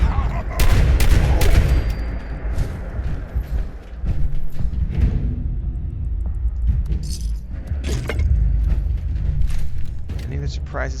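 A rocket launcher fires in a video game, giving several loud, sharp blasts and rumbling bursts spread across the span, with a voice talking in between.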